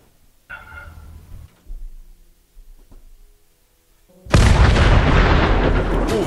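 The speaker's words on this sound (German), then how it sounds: "Dicke Explosion, was war hier los?" An explosion in the video game Fallout 76 erupts as a sudden, loud, sustained roaring blast after a few seconds of faint low game sounds, then rumbles on to the end.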